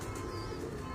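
Pigeons coo softly and continuously in a short stretch, a low murmuring warble with faint chirps mixed in, close by against a steady background.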